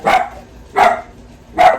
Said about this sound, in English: I hear my son's dogs outside